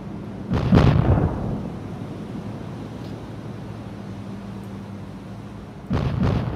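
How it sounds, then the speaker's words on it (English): A torpedo explosion tears into a warship in the naval combat game War on the Sea, a heavy booming blast followed by a long low rumbling decay, then a second loud burst near the end. "Here comes a torpedo from the other side."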